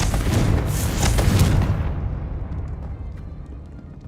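A Confringo blasting spell from Hogwarts Legacy on PS5 detonates with a loud, broad explosive boom that rolls off into a fading rumble over a few seconds, with no talk.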